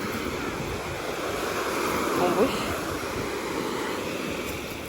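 Strong surf breaking on a pebble-and-fine-sand beach at a hotel in Mersin, Turkey, a steady loud roar of waves with some wind noise on the microphone, heard alone without talk.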